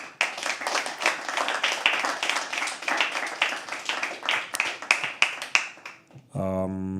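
Applause from a small poetry open mic crowd, a modest run of claps with some louder individual hands, fading before a short electronic tone sounds near the end.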